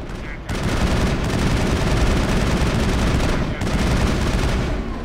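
Sustained automatic gunfire from a Mass Effect battle roars almost nonstop, loud and dense, briefly dipping twice before resuming its rapid volleys.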